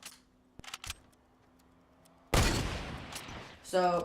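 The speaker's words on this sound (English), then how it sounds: "I'm being shot at by like 3 people" Gunfire in a video game, including sniper shots, with a quiet stretch and a few short pops and then a loud, sustained burst of shooting and a rapid rattling volley at the end, under brief speech.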